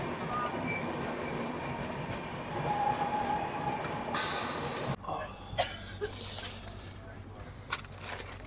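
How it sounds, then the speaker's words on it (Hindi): A passenger train coming from the Sasaram side toward Patna rumbles past close by, its steady roar and rail clatter filling the whole clip, with a sharp hiss and a few clanks near the end. "ये जो आप ट्रेन देख रहे हो ये आ रही है सासाराम की साइड से, लगता है पटना के लिए जा रही होगी, पैसेंजर ट्रेन है"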